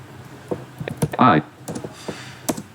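Typing on a computer keyboard with a final press of the enter key: a few scattered close key clicks among and between a man's speech.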